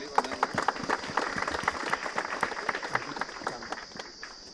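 A church congregation claps together at the consecration of a newly built church, a steady patter of many hands filling the room at moderate distance.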